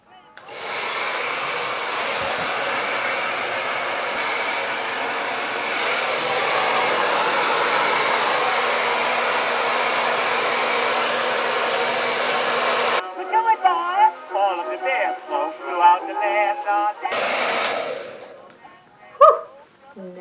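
A hair dryer blow-dries hair, blowing as a loud steady roar close by for about thirteen seconds. It then stops and a voice speaks, followed by a short final burst of the dryer.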